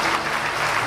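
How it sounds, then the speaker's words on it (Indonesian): An audience at a business success event claps loudly and densely for a brief moment, a close, continuous burst of applause. "Tepuk tangan untuk para 9 crown yang lain Bapak Ibu."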